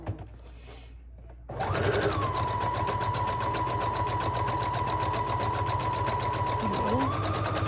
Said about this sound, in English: making sure that the thread gets sewn down really well